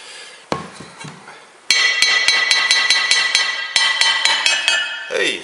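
A hammer strikes a sharp-edged underwater sea sculpture to knock a piece off, with a rapid series of bright metallic clinks and taps in steady rhythm after a few isolated knocks.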